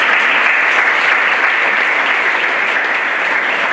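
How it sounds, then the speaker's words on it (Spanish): An audience at a legal discussion event applauds a judge with dense, steady clapping that fills the room at full volume for a few seconds, with no voice over it. "Un fuerte aplauso."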